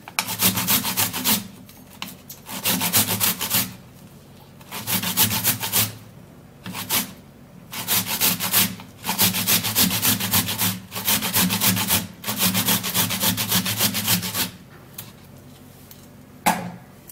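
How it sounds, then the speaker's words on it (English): A whole tomato grated by hand on a grater over a flat plate, giving repeated bursts of close, rasping scrapes in a steady rhythm with short pauses between strokes, no talking. "I'll grate the tomato"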